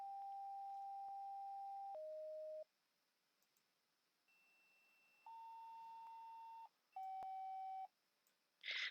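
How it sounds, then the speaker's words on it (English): Paging tones from a dispatch tone board: a sequence of steady electronic beeps, a long high tone dropping to a lower one, a pause with a faint whine, then two more sustained tones and a closing click. "We have this thing called a tone board. Now it has all these different tones."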